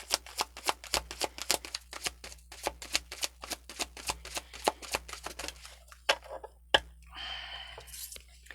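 A deck of angel cards is shuffled by hand in a quiet room, giving a quick run of crisp riffling bursts in an uneven rhythm, then a few sparser flicks and a brief soft rustle at the end.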